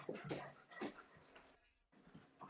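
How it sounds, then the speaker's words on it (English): An 80-pound dog whimpers and breathes close by, short soft whines and snuffly breaths in quick bursts, trailing off into quiet before a faint stir at the end. "Crazy 80-pound dog that's trying to climb on my lap"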